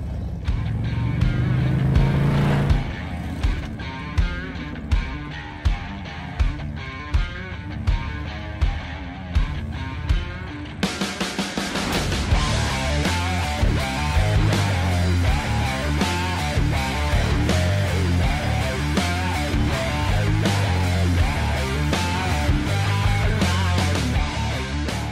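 A 2024 Harley-Davidson Road Glide fitted with Khrome Werks mufflers runs loud and close, idling with a steady pulsing throb, then revving hard into a sustained roar. No one speaks.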